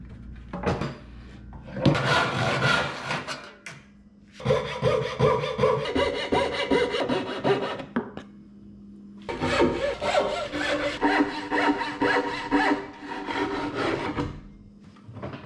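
A hand saw cuts the rough shape of a wooden profile in three long bouts of steady rasping back-and-forth strokes, loud and close, with short pauses between bouts.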